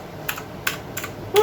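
A few sharp, close clicky keystrokes on a Leaven K550 87-key blue switch mechanical keyboard, spaced irregularly in a quiet room.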